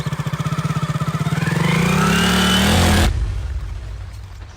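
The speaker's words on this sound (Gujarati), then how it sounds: "એ તો બાઇકમાં હળવે જવા દે." A motorcycle ridden slowly along a rough road under construction, its engine pulsing steadily and then rising into a louder revving drone before cutting off abruptly. No talking is heard.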